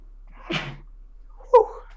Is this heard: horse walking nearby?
no